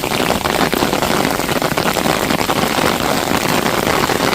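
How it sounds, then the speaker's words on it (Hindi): Steady rain falls in the United Kingdom, a dense, even hiss of drops that is loud and constant throughout, with no voices. "बारिश के मज़े।"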